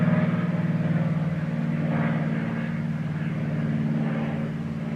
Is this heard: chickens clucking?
no